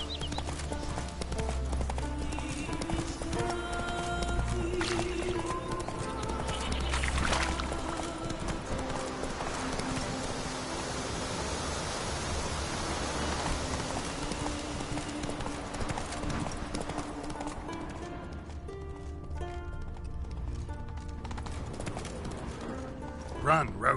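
A horse gallops in The Witcher video game, with rhythmic hoofbeats running continuously under game music and ambient sound, while voices speak over it.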